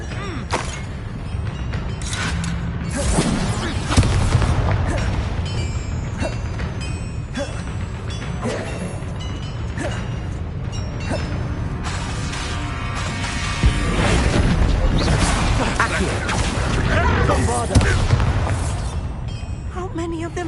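Explosive Bombarda and Confringo spells in the Hogwarts Legacy video game, heard as repeated booming thuds and crashes amid busy combat noise, with a voice talking throughout.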